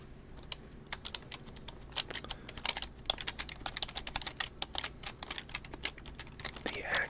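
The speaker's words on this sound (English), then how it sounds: "The action on this keyboard is pretty good still." Keys clatter on an old, partly cleaned computer keyboard, an irregular run of crisp close clicks and taps at a quiet level, alone without talk.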